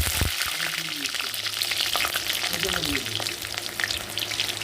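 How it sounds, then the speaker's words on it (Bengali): Nigella seeds and green chillies dropped into hot oil for a ridge gourd bhaji, giving a dense, loud, continuous crackling sizzle up close with a few faint stirring taps. "তেলটা গরম হয়ে গেছে এবার আমি দিয়ে দেব একটু কালো জিরে ফোড়ন আর দিয়ে দেব কাঁচা লঙ্কা"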